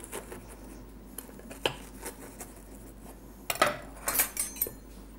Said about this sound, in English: With a sharp knife, just go around the edge of the lip and then cut a V out.